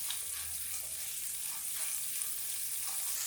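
Halved shallots and garlic frying in a pan for Kerala-style chicken curry, a steady bright sizzle with faint stirring, close and continuous with no talk.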